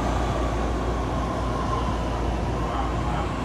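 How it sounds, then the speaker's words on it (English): A BART Fleet of the Future Blue Line train to Dublin/Pleasanton pulls into Embarcadero underground station, a loud, steady rumble and roar with a faint high whine across the whole stretch. "Embarcadero station is the new Fleet of the Future Blue Line, Dublin Pleasanton. Here she comes."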